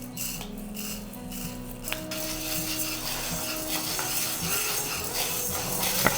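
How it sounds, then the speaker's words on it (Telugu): Tenali Double Horse toor dal poured into a hot kadai on a lit stove, then stirred and dry-roasted, giving light rattling scrapes and soft sizzling close by, with no talking. "ఫస్ట్ ఈ బాండీలో తెనాలి డబుల్ హార్స్ కందిపప్పు వేస్తున్నాను."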